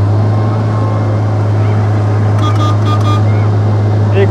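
Amphicar amphibious car cruising on water, a steady loud engine drone with constant low hum and water wash, with a voice speaking briefly over it.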